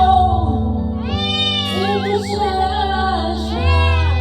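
A cat meows in a drawn-out, wavering cry, loud and close, heard over a bed of music.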